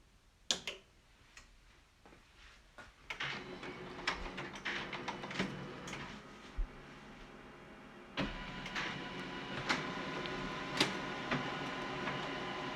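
A Canon imageCLASS MF8580Cdw color laser printer powers up, with a sharp click, then a rising mechanical whir and churn, scattered ticks and clunks from its internal mechanisms; nearby, no talking.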